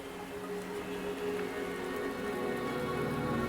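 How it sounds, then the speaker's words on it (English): Steady rain pattering on surfaces in the video game Wuthering Waves, a continuous even wash of drops with faint game music beneath, no voices. "Don't worry, the rain won't last much longer."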